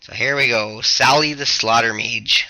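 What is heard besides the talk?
No distinct noise like a dog, phone or traffic.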